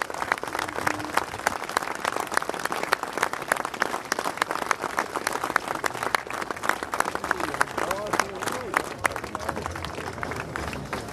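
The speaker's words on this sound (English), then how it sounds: "Give Pat a big round of applause, welcoming him home to his home city." A crowd gives long, continuous applause welcoming former Arsenal and Spurs goalkeeper Pat Jennings home to his city at a statue unveiling, with scattered sharp claps across a wide outdoor space and voices murmuring beneath.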